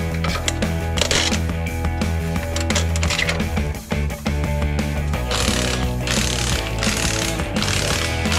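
A 1978 Ford F100 pickup is jacked up to pull its wheels: rapid ratcheting clicks and mechanical clatter close by, in quick bursts with short pauses, no talk.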